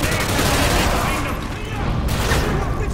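Rapid, dense gunfire in the video game Modern Warfare 2 fills the scene, a loud continuous barrage of overlapping shots and bursts with a voice talking underneath.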